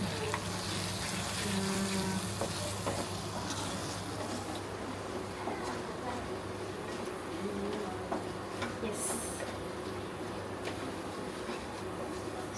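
Mutton chukka is stirred and fried in a pan, a steady, dense sizzle that continues evenly throughout, with soft scraping of the stirring beneath it.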